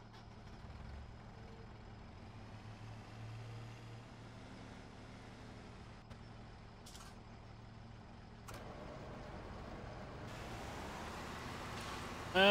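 Tractor engine in Farming Simulator 17 running as a steady low drone throughout, with a faint rise in higher noise toward the end and no talk over it.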